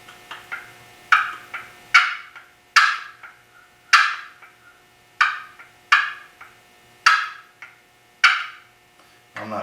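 A Mann Made turkey box call is worked in a steady run of sharp clucks, each a crisp, close, clicking note with a brief trailing scrape, repeating roughly every second over near silence.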